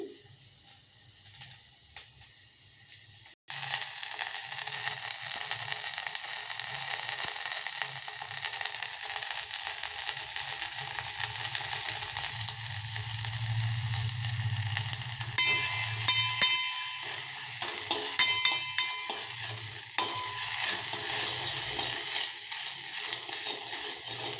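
Fresh coriander and curry leaves hit hot oil in a pan, and a loud, steady sizzle begins abruptly after a few quiet seconds, then continues close up with occasional stirring clatter.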